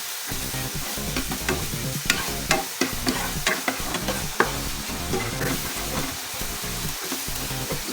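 Onion, garlic and potatoes sauté in a hot pan for beef caldereta, a steady close sizzle broken by repeated scraping strokes of a spoon stirring against the metal, with no voices.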